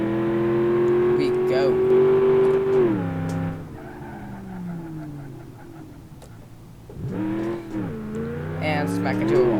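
A car with nitrous engaged accelerates hard in BeamNG.drive, a loud rising engine whine that drops off after a few seconds, then rasps and revs again near the end, with someone talking over it.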